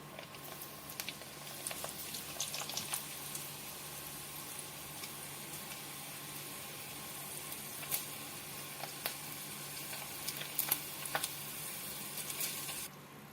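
Sago pearls fry in hot oil for a Khatta Meetha mixture, making a faint, continuous sizzle sprinkled with small crackles and pops throughout.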